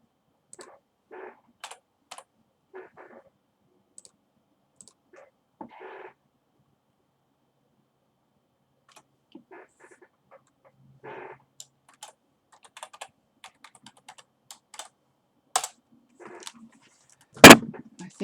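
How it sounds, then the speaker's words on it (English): Sparse bursts of computer keyboard typing, scattered clicks and short runs of keystrokes in a quiet room with no talking, ending in a sharper louder click. "I need my keyboard to get to it."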